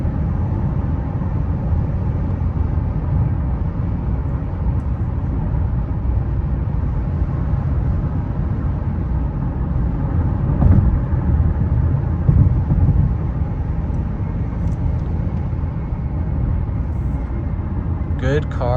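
Cabin noise inside a 2023 Honda CR-V AWD cruising on a highway at about 50 to 60 mph, a steady low road and engine rumble, with a person talking throughout.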